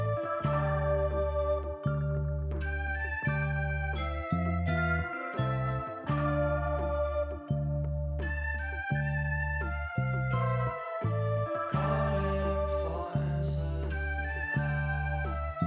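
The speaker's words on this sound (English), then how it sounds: "So I added the vocals to a mellotron to see what they would sound like." Vocal sample played back through a 1960s mellotron, giving sustained, harmonically rich tones with a steady repeating low pattern, loud and continuous throughout with no talking.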